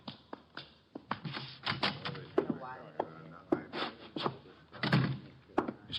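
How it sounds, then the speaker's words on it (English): A door opens as a sound effect in a Nero Wolfe radio detective drama, heard as a series of close clicks, knocks and thumps in uneven rhythm, with faint voices murmuring in between. "The door, Chuck."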